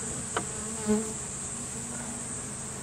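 Steady buzzing of honeybees, European and Japanese, at an open hive holds throughout, with a couple of brief soft knocks near the start.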